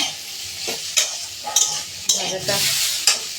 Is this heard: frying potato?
yes